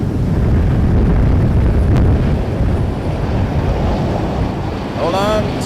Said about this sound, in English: That one almost blew me over. Wow. Woo. It is gusty.